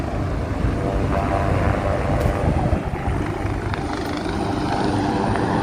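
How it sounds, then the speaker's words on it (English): A helicopter thrums loudly and continuously overhead above the Hudson River in New York City, its rotor chop and engine roar steady throughout, with a voice faintly underneath. "Oh, that helicopter is really loud."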